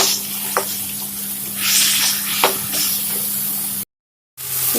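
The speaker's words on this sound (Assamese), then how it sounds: "এইখিনি এতিয়া ভালদৰে ভাজিব লাগিব।" Eggplant pieces frying with onions in a pan, giving a steady close sizzle with occasional stirring scrapes and a brief dropout near the end; no talking.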